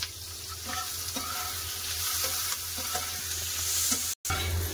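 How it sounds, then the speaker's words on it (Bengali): Onions for chicken do pyaza frying in a pan with fennel, tomato and salt, a steady quiet sizzle broken by repeated scraping strokes of a spoon stirring, with a brief cut near the end. "চিকেন দো পেঁয়াজের জন্য পেঁয়াজটা ভাজা হয়ে গেছে"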